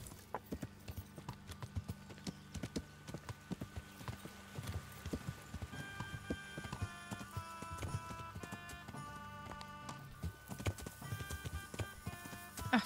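Horse hooves clip-clopping steadily at a walking pace in the video game Kingdom Come: Deliverance, with soft tones and chimes in the background, moderately quiet and close.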